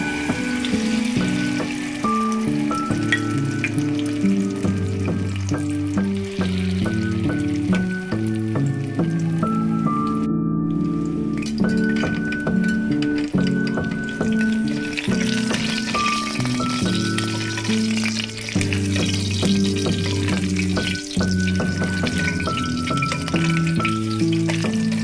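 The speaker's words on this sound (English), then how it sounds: "Second pieces of tuna omelette to cook." Canned tuna omelette with vegetables fries in a pan, a loud continuous sizzle and crackle running unbroken for the whole stretch, with light scraping and occasional sputtering pops.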